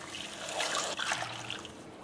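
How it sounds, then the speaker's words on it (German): Hot water poured from a cup onto two cups of rice in a pot for Turkish pilaf, a soft steady trickle and splash lasting about two seconds, close and moderately quiet. "da ich 2 Tassen Reis verwendet habe, gebe ich hinein 3 Tassen heißes Wasser"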